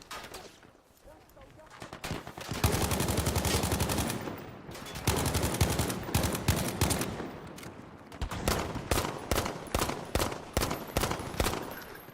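Gunfire from Battlefield V on PS4, with sustained automatic bursts and rapid repeated shots in a busy firefight, loud and close, plus distant shooting and some talk mixed in.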